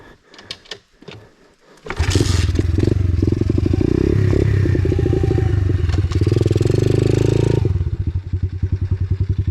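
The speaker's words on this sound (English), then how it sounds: "Think I can make that on a pit bike?" Apollo RFZ X4 pit bike being ridden: after a few seconds of quiet knocks, a loud, close engine roars steadily with a rattling buzz for about six seconds, then eases off.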